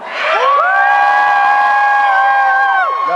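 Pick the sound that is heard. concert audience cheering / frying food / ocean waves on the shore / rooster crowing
concert audience cheering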